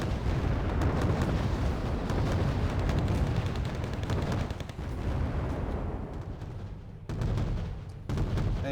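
Artillery fire support in the strategy game Wargame Red Dragon, heard as dense, continuous rumbling barrages of booms and bursts, loud and sustained with no talk over them.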